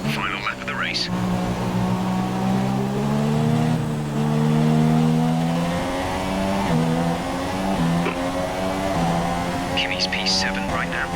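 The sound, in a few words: F1 race car engine in video game F1 2017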